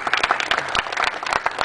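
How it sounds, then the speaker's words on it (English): A small group on a tour at Alcatraz gives a brief round of applause, with a short, uneven burst of nearby hand clapping. "let's give a round of applause there"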